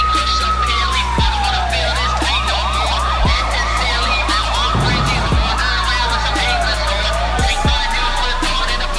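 A loud emergency siren, wailing up and down and then switching to a fast yelp before returning to a slow wail, sounds close and continuous with low rumbling underneath.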